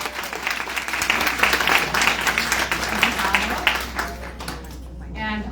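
Audience applause rolls through a conference hall at a climate panel event, steady dense clapping at moderate volume with scattered voices, tapering off near the end.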